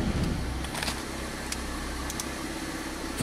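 A car engine revs once during a battery and charging test: a short rise in engine noise at the start drops back to a steady idle hum with faint ticks and clicks.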